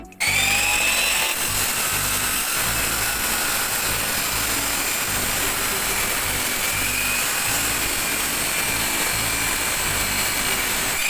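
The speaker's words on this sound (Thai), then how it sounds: "ตัดเหล็กนะครับ นี่อ่าเป็น เป็นเหล็กแผ่นนะครับ" A 4-inch angle grinder cuts steel plate with a loud, continuous high-pitched whine over harsh grinding noise. It runs close and steady throughout, with no talk.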